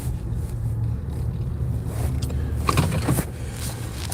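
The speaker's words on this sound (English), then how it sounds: "That was a very intense drive." Car driving on a road during a driving lesson, with a steady low engine and road rumble throughout and a few brief mechanical clicks and knocks near the end.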